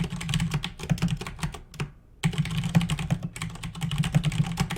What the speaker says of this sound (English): Sorry, just typing in the chat.